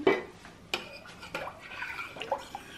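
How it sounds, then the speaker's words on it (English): A spoon stirs sauce seasoned with red hot pepper and hot sauce in a crockpot, giving close wet sloshes and light clinks against the pot in a few uneven strokes. "And I keep stirring it up so that all the flavors can meld together"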